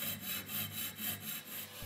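A hand saw cuts through metal as silversmiths work table lamp rods, steady back-and-forth strokes, about eight rhythmic rasps in quick succession, close and quiet.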